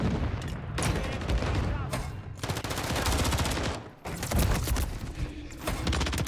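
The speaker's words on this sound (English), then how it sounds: "our team is shooting right now" Call of Duty: Modern Warfare 3 ranked-match gunfire, dense automatic bursts and rapid shots in long loud volleys with brief pauses, close and continuous, with a voice talking over parts of it.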